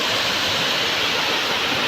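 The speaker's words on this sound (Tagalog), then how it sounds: "hindi ganun kalakas yung bagsak ng tubig dito" Water pours steadily at Malinaw Falls in Valencia, a constant broadband rushing that fills the whole clip with no voices over it.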